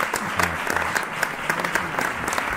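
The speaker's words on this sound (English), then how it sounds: "Get a round of applause." Steady applause plays alongside a Netflix trailer while a couple react to it. Continuous clapping runs throughout at moderate loudness, with faint low voices mixed in underneath.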